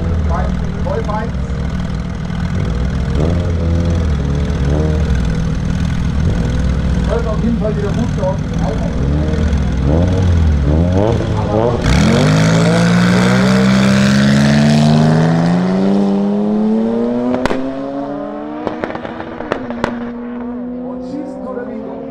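A 750 PS all-wheel-drive Porsche 997 at a drag race, its engine roaring loudly and then climbing steeply in pitch as it launches and accelerates hard, while an announcer talks over the engine noise.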